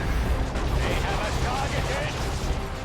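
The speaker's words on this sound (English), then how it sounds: "here we go with another grenade" A grenade blast in the real-time strategy game Dawn of War II: Retribution, a rumbling broadband explosion with crackling debris, steady and dense over a few seconds beneath a commentator's talk.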